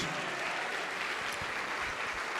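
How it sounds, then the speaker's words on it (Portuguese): A church congregation claps in a dense, continuous wash of applause that fills the whole moment, evenly loud throughout with no pauses. "Vamos aplaudir mais ao nome de Jesus."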